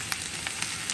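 Chopped onions fry in heated oil in a pan, giving a steady close hiss and sizzle with small crackling pops.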